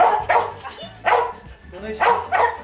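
A dog barks sharply several times in quick bursts, close by, with short pauses between the barks.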